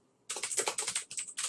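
Computer keyboard keys are typed in a quick, steady burst of close, crisp clicks following a brief silence.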